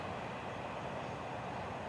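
Florida East Coast freight train 105 rolls past on the main line, a steady, broad rumble of wheels and railcars heard from trackside without pause.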